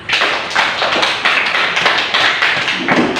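Students in a classroom clap together, loud and close, in quick bursts with a rhythmic, patterned feel and a few heavier thumps.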